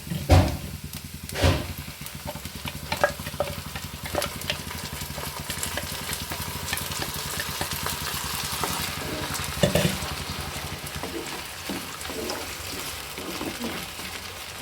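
Onions frying with masala paste in a home kitchen pan, a steady close sizzle with a few louder stirring knocks and scrapes, no talking.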